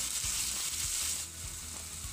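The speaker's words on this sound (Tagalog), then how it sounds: "Isaute po natin" Long chili and tomato sauté in a pan for spicy tuna sardine pasta, producing a bright, steady sizzle close up with faint soft bumps underneath.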